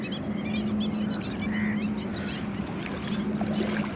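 A crowd of birds at a water spot near Kanchipuram, with dense overlapping honks and calls filling the air steadily throughout, over a low continuous hum.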